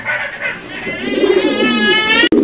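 A pair of high flyer pigeons coo near and clear, a steady run of soft throaty calls with a brief break before the end.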